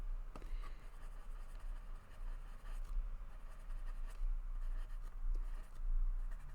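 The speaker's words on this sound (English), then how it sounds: "Got to put some of the graphite at the top, so I'll just use what's on my pencil." Graphite pencil shades on paper for an abstract art bookmark, giving a steady, close, soft scratchy rasp with small strokes throughout and no talking.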